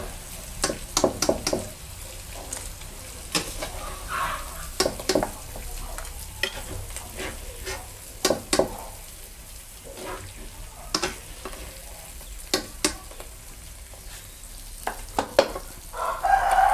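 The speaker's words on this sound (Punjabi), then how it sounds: "ਤੇਲ ਚ ਜੀਰਾ ਪਾ ਕੇ ਆਪਾਂ ਹੁਣ ਪਿਆਜ਼ ਪਾ ਦਾਂਗੇ ਵਿੱਚ" Cumin and onion go into hot oil for a bitter gourd curry, giving a steady low sizzle broken by repeated sharp clinks and scrapes of stirring, close and moderately quiet, with no talk.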